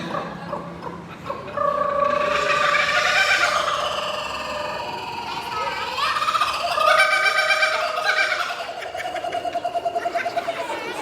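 A person does a chicken imitation with a run of high, squealing clucks and squawks in short bursts, loud and close, with some room noise behind.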